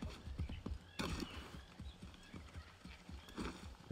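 Horse galloping in the video game Assassin's Creed 3 Remastered: rapid, rhythmic hoofbeats thud steadily throughout, close and fairly loud, with a brief whinny-like cry near the start.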